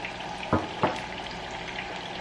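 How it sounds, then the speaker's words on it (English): Pan of Patron tequila wing sauce simmering as the alcohol cooks off, giving a steady low sizzle with two brief louder bursts of bubbling or stirring near the start. "what you want to do is let all of the alcohol cook out"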